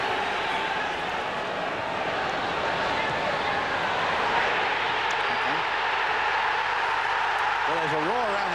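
Football crowd at Old Trafford during a Manchester United versus Galatasaray Champions League match, a broad continuous roar filling the ground under steady commentary.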